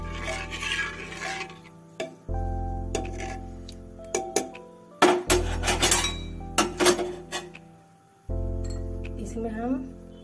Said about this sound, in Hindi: अब हम इसमें हल्के से चम्मच चलाएंगे।